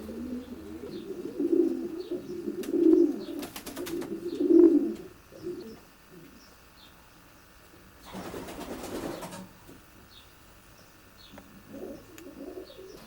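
Show pigeons coo nearby in a loft in a series of soft, throaty, rolling calls in the first half, with a short burst of rustling and fainter coos afterward; no one speaks.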